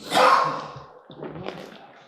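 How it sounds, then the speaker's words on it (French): A dog gives one loud bark nearby, followed by softer rough barking and breathing sounds. "ferme ta gueule, toi le chien"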